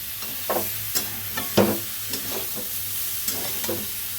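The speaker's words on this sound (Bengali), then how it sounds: "দিয়ে এটাকে ভালো করে কষিয়ে নেব" Ginger paste and spices are stir-fried in a pan for a paneer, potato and soybean curry: a low steady sizzle broken by regular scraping strokes of a spatula, roughly one every half second, with no talking.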